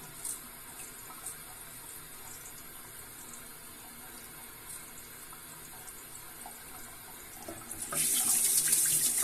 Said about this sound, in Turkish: Şimdi ben tekrar bir yüzümü yıkayacağım.